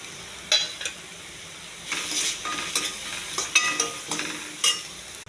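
Ginger garlic paste fries in a pan as a curry is cooked, a steady soft sizzle broken by repeated scraping stirs of a utensil and the odd clink against the pan, no voices.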